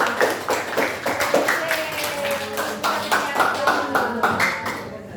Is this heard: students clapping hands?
yes